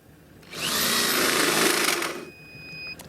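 An electric drill powered through an inverter whirs loud and near for about a second and a half, then winds down, leaving a faint high whine.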